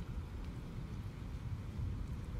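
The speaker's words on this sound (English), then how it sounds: "our harbor cam captured this thunder and lightning over the inner harbor a little bit earlier tonight" Heavy rain and thunder from a severe thunderstorm over Baltimore's Inner Harbor at night, a steady loud low rumble and wash of rain with no voices.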